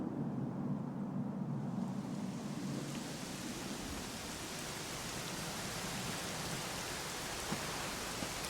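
Steady rain hisses loudly and evenly throughout a Dragon Quest XI S cutscene, with no speech over it.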